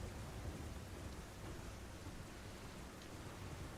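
Steady, dense rain falls in the video game Elden Ring as an even broadband hiss with a low rumble beneath it. It stays constant and fairly faint for the whole stretch.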